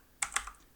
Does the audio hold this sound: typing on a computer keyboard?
yes